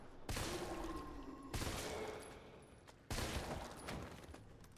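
Shots fired in a Resident Evil video game, three sharp blasts spaced about 1.5 seconds apart, each trailing off into a long echoing tail, quiet overall.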